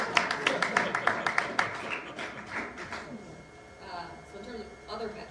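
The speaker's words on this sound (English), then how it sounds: "You could clap if you need to." Brief burst of audience clapping at a homeless-housing outcomes presentation, a handful of sharp claps in the first two seconds fading into murmur and room noise with voices underneath.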